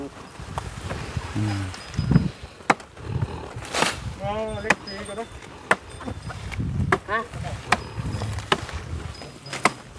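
Outdoors, a kapok tree is being cut down with a saw, giving uneven chopping and rasping strikes with sharp woody knocks. People talk throughout, and there are a few louder cracks.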